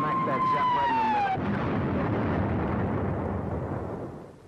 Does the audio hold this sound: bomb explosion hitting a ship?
yes